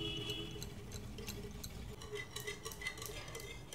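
Homemade curd with a spoonful of sugar is whisked in a bowl for cucumber, onion and tomato raita, giving a steady, close, rhythmic scraping and light clinking throughout with no talking.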